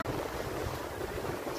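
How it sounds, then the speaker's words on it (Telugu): Ocean waves wash onto a beach in Kuwait in a brief, continuous rushing surge mixed with wind buffeting the microphone, with no voices. "అలలు చాలా బాగుంటాయి, భయం వేస్తుంది"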